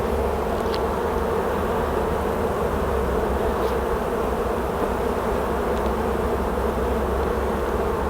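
Dense, steady buzzing of many honey bees around a hive frame during queen grafting, close and continuous throughout with no voices.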